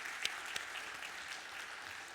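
Faint applause from a church congregation, a soft, distant patter of many hands, with a couple of sharper individual claps standing out near the start.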